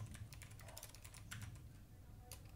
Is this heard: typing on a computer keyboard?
yes